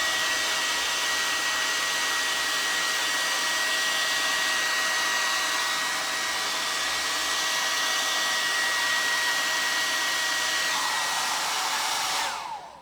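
Hair dryer blowing steadily on PVA wall filler putty spread on a plaster piece, a loud continuous close whoosh with a whining tone that runs unbroken, then cuts off at the end.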